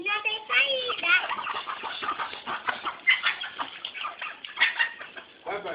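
A goose calls and flaps in short, honking bursts while chasing a five-year-old child, close and fairly busy throughout, mixed with a voice and other people talking.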